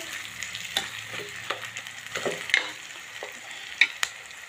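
Mashed eggplant bharta roasting and being stirred in a pan, a soft steady sizzle broken by several scraping stirs and clacks of the spoon close by, with no voices.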